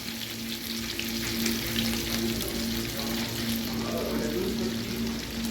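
Pre-cooked mutton, already seasoned with salt and pepper, frying lightly in oil in a pan, a dense continuous sizzle and crackle, close and steady with a faint low hum underneath.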